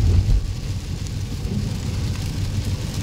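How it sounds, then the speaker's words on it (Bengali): Heavy rain pours down in a dense, continuous roar with a strong low rumble, heard steadily throughout with no voices. "এখন প্রচণ্ড বৃষ্টি হচ্ছে। তো দেখো প্রচণ্ড বৃষ্টি পড়ছে।"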